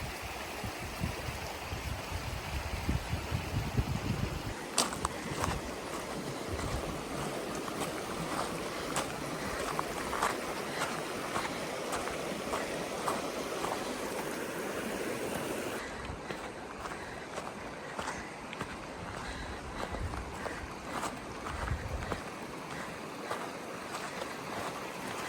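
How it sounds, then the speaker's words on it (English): Strong wind rushes and buffets continuously on the Pacific Crest Trail, roaring over what sounds like moving water, with the gusts easing somewhat toward the end. "It's quite windy right now."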